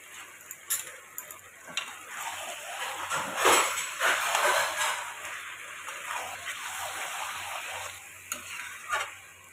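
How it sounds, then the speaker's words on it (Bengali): Potatoes with a whole garlic bulb sautéing in a pan, giving a steady sizzle with scattered ticks and spatula scrapes and a louder burst of stirring partway through, no talking. "আজকে আলুগুলো এর মধ্যে দিয়েই কষাবো।"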